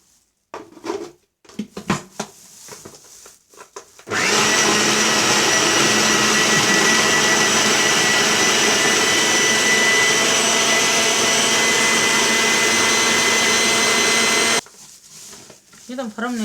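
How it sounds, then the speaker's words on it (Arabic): An electric chopper whirs loudly and continuously for about ten seconds as it minces bell peppers and garlic, with brief handling noises and clatter before and after. "كده فرمنا الفلفل والثوم مع بعضيهم، فرم ناعم اهو."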